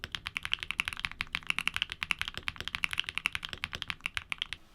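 Keygeek Keylin mechanical keyboard switches clack under fast, continuous typing, a dense, crisp stream of close keystrokes with slight variation in loudness, and no voices.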